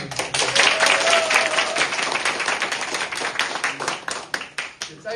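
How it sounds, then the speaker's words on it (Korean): A crowd claps in a steady patter of applause at an election campaign office opening in Korea, gradually thinning and trailing off, with a voice briefly audible over it near the start. "박수 한번 주세요."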